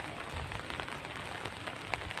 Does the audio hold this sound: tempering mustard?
no